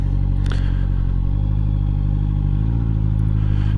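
QJ Motor SRK 800 four-cylinder roadster idling and creeping through a slow three-point U-turn, a close, steady low engine burble with slight throttle blips and faint clatter, no voices.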